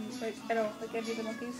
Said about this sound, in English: That was our cat.